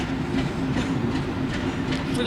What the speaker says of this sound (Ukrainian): Потяг рушає до прикордонної громади вперше від 24 лютого.